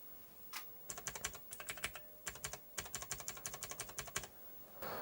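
Keys tapped on a computer keyboard attached to a MiSTer FPGA multisystem in a 3D printed wedge case, in short irregular bursts of close, crisp clicks separated by brief pauses.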